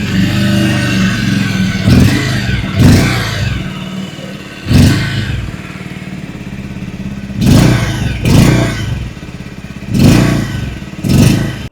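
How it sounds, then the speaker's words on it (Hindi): Close, loud idle of a 2026 Bajaj Pulsar 150 twin-disc LED motorcycle, punctuated by about seven quick revs in uneven groups, each climbing briefly before settling back to idle. "अभी सुन लेते हैं 2026 मॉडल की एग्जॉस्ट नोट।"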